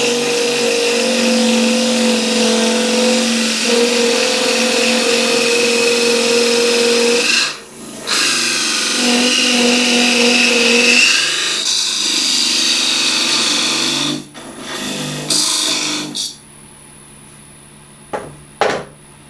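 Wood spinning on a lathe as a gouge cuts against the tool rest, a sustained whirring, scraping hum that breaks off briefly twice, then winds down to near quiet at the end.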